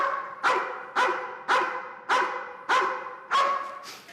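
A police dog barks repeatedly and loudly up close, six sharp barks in an even rhythm roughly half a second apart, with no talk over them.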